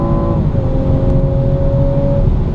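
A BMW M240i xDrive with 340 hp accelerates hard in sport mode from about 80 km/h, its engine note holding a steady, loud drone that climbs slightly in pitch, with a brief dip near the start as a gear changes.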